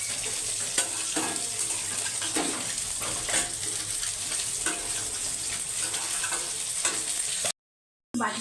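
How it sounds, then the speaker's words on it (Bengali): Morula fish fries with tomato and onion in a pan, giving a steady, close sizzle with soft stirring scrapes that cuts out briefly near the end. "টমেটো পেঁয়াজ দিয়ে আমি মাছটা দিয়ে দেবো।"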